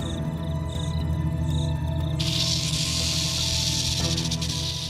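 A rattlesnake rattles in the desert, a continuous dry buzzing hiss that grows stronger partway through, heard over a low sustained musical drone.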